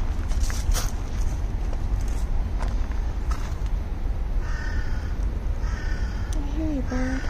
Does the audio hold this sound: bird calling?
yes